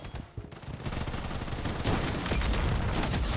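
Rapid shotgun blasts in the Blood Strike shooter game, a dense run of loud booming shots that grows heavier partway through and keeps firing without pause.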